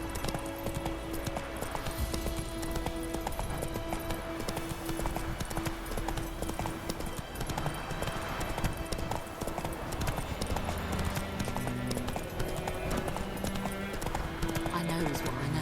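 Horse hooves clip-clop steadily in The Witcher 3, a continuous rhythmic trotting close up, with voices speaking over it at times.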